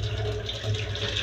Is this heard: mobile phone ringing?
no